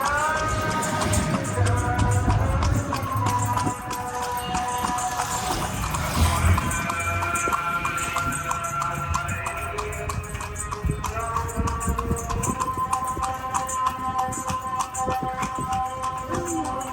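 Horse hooves clip-clop steadily under a carriage ride through the streets of Luxor, Egypt, amid busy city noise and a few voices.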